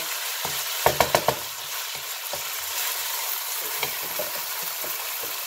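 Noodles stir-frying in a hot pan, a dense continuous sizzle with a quick burst of four sharp clinks from the utensil early on, followed by softer occasional scrapes, close by and fairly loud.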